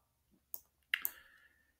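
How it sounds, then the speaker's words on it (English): Computer mouse clicks on a toolbar icon in video editing software, a short quiet click followed by a louder double click with a brief tail, heard alone. "I'm now going to click the effects icon on the toolbar."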